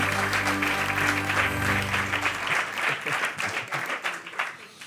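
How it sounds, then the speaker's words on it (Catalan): Audience applause at a live literary talk-show recording in Catalonia, a dense steady clapping that swells and then gradually thins and fades out over several seconds, with a low hum underneath at first. "Un aplaudiment per la pregunta oberta, molt oberta"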